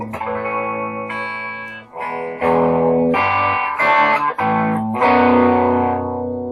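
Electric guitar with P90 bridge pickups in a Strat-style body, played through a Princeton Reverb-style amp, gives a bright, slightly gritty tone, playing sustained chords and notes in a steady phrase, loud and close with no talking.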